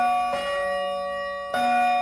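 Doorbell chime on a secondhand Japanese household item: a sustained bright ringing tone with clear harmonics, struck again after a short pause, loud and alone.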